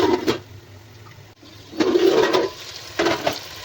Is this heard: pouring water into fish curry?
yes